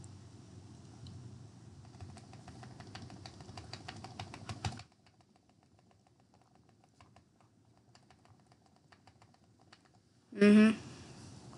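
Rapid, dense clicking while playing the video game Granny rattles for several seconds, then stops abruptly, leaving faint sparse clicks before a short loud burst at the end.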